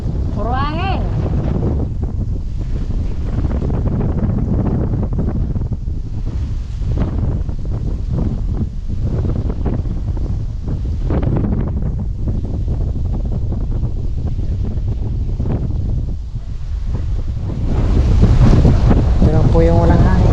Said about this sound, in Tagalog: Puro hangin.